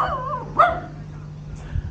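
At a campsite, a dog gives a couple of short, close barks and yips with a brief whimper, over a faint steady hum and quiet background.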